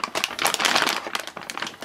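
A plastic parts bag from an Axial Yeti XL kit crinkles in quick, close bursts as it is handled during unboxing.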